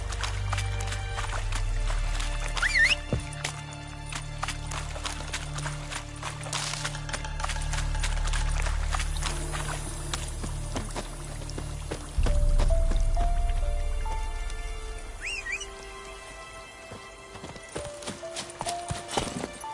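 A horse in The Witcher 3 clip-clops along in a brisk, steady hoof rhythm, with low rumbling ambience and scattered game sounds around it.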